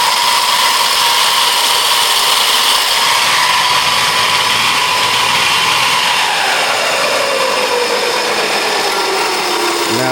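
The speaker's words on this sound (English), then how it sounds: "see, I'm twisting the throttle." Electric motor of a HappyRun F18 electric dirt bike whining loudly and steadily as the throttle is twisted, its pitch sliding downward near the end as it winds down.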